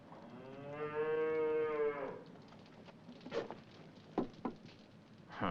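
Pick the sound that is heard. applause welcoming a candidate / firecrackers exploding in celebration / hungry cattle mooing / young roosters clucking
hungry cattle mooing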